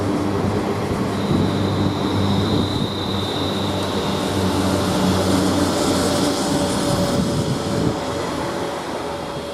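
At Coventry station a British Rail Class 350 unit with 350404 on the rear hums and rumbles steadily, a dense continuous drone with a thin high whine, easing slightly toward the end.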